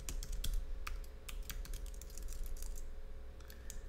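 Keys clacking on a computer keyboard while code is typed, irregular quick taps with short pauses, close but fairly quiet over a low background hum.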